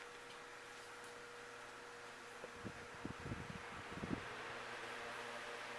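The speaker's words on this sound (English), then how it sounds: "The motor is a rather high-speed motor, and with a 5-element blade, that tends to make it have a bit of a whir to" A vintage GE five-blade oscillating desk fan running on its high setting gives a faint, steady whir with a thin tone, plus a few soft knocks and rattles midway.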